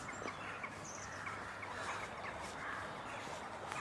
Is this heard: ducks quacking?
yes